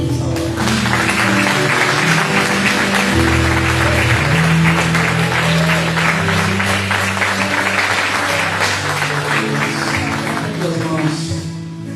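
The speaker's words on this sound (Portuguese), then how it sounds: "Eu queria que você aplaudisse o Senhor nessa hora." Church congregation applauding during an evening Portuguese-language service, steady sustained clapping over organ or keyboard chords throughout, with voices mixed in.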